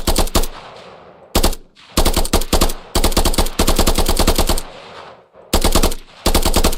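Bursts of automatic gunfire from a player's weapon in a stealth-style video game, rapid loud volleys separated by short pauses, with no speech.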